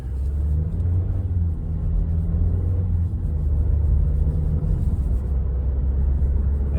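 A VW Taos in sport mode drives along with a steady low engine rumble and road noise from inside the cabin, the engine note easing as it shifts at moderate speed.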